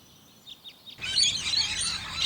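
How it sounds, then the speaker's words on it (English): A lorikeet gives a few faint chirps, then a sudden burst of loud, harsh, high-pitched screeching. "Lorikeet."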